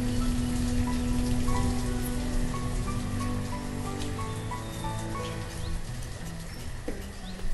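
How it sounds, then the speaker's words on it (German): Rain falls steadily in the city-building game Banished, a dense patter of drops over a low ambient drone with faint tonal game sounds layered on top. "Beginnt auch gleich der Regen aufzuhören."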